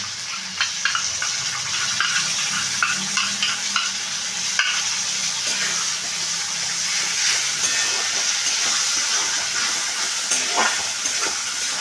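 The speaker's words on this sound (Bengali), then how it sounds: "আমি এই বাটিটা ধুয়ে জলটা দিয়ে দিলাম" Water from a rinsed bowl splashes into a hot cooking pan of spiced curd-and-okra masala, setting off a loud, steady sizzle and hiss with faint stirring scrapes, close by and lasting throughout with no talk.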